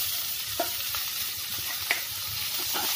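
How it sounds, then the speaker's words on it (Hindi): Mashed potato being mixed into a spiced dosa filling with turmeric, garam masala and oregano in a hot pan, giving a steady soft sizzle with a few faint scraping stirs, no voices. "अच्छी तरह से इसको मिक्स कर लेंगे।"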